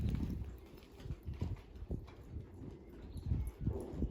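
A five-year-old Appaloosa mare lopes in an arena, her hoofbeats landing in a steady rolling three-beat rhythm, moderately close with soft dull thuds and no talking.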